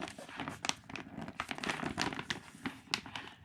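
Silver metallic packaging for a Fear of God Essentials t-shirt being opened by hand, a quiet series of close crinkles and papery tears in uneven bursts.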